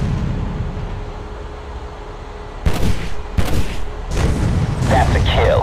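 Gunfire in the Modern Combat 3 video game, sudden loud bursts of shots and blasts breaking in after a quiet rumbling stretch, then continuing dense and close with clattering debris.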